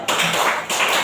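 Hand claps in a classroom counseling exercise, a quick series of sharp, close claps filling about a second, loud and dry with no talking.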